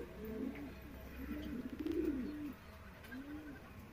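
Flying pigeons, including Kalduma breed, coo in low, rolling phrases, several calls in a row, close by with a faint background hum.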